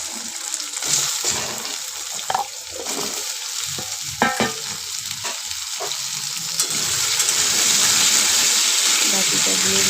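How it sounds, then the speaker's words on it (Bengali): Ingredient dropped into hot oil with black cumin seeds, sizzling and bubbling loudly close by. Scattered stirring clatter is followed by a steady, intensifying fry hiss. "গাটিটা তেলে দিয়ে দিলাম।"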